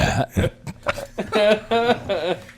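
A person produces a drawn-out, croaking burp in several voiced pulses, close to the microphone, during a casual beer podcast recording.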